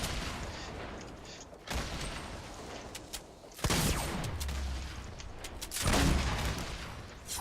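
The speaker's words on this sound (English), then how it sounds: "I'm just going to show you what it kind of looks like when I'm trying to push somebody with a grenade launcher" Grenade launcher shots and explosions in Fortnite: repeated booming blasts in several heavy waves, each one swelling and then decaying, with a steady loud layer of game noise in between.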